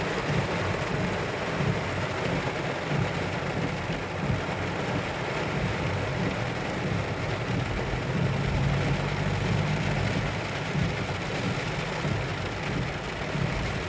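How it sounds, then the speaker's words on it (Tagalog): Steady, dense broadband hiss of heavy rain in Riyadh, Saudi Arabia, loud and continuous, with a low rumble underneath like an engine idling nearby. "Ang lakas ng ulan, grabe."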